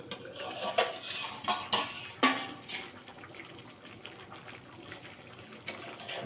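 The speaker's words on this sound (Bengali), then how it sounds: "ওখানে ঢাকনাটা তুলে দেখি কি কন্ডিশন।" Metal cookware clatters as the lid comes off a pot of tribal-style pork simmering in water, giving a few sharp clinks and scrapes over a steady low bubbling, close by with no talk.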